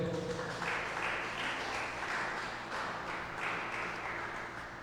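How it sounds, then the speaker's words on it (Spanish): A church congregation claps in praise, a soft sustained patter of many hands that swells and eases in gentle waves, somewhat distant and fairly quiet, heard alone without speech. "¿Cuánto puede dar un aplauso al Señor por esto?"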